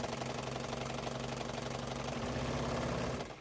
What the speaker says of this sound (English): Press the foot pedal to start sewing.